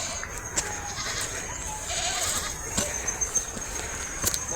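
Goats on a mountainside near Woldia bleat several times over an outdoor hum, the calls short and fairly close, with some faint voice-like sound in the background.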